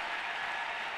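A church congregation claps and cheers in praise during a French-language sermon, a dense, steady wash of applause filling the room for the full second, with no voice rising above it.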